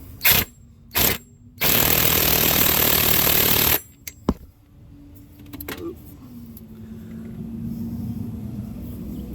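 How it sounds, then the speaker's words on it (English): Impact wrench tightening a bolt on a Chevy Cruze engine during timing belt work: two short bursts, then a sustained loud rattling run of about two seconds, followed by quiet clinks and a low hum. "I'm just going to be using the impact, but you don't want to get too carried away with your impact."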